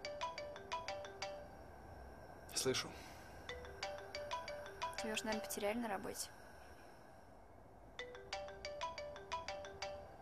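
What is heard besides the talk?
phone ringtone ringing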